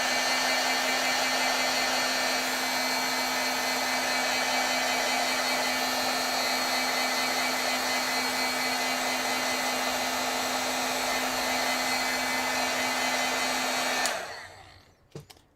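A heat tool blows steadily on bleed-proof white paint, a loud even whirring hum that runs unbroken for about fourteen seconds before cutting off abruptly.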